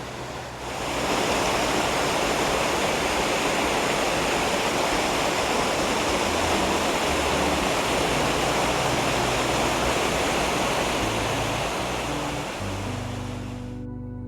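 Rushing mountain stream in the Great Langdale fells, a steady dense roar of white water that fades in quickly, stays loud and close throughout, and falls away at the very end.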